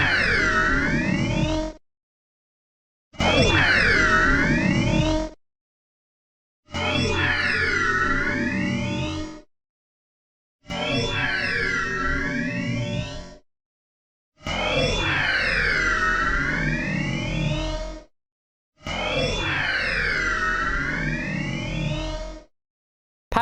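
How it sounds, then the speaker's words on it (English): An eerie, warbling electronic cry of the Pokémon Rotom, drawn out and slowed, repeating six times with short silent gaps between, loud and close, with a deep rumble underneath. "This is Rotom's cry in slow motion."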